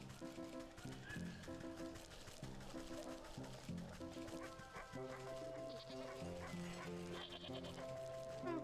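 In the video game Wytchwood, a flock of colorful sheep gives scattered wavering bleats mixed into continuous, melodic game music.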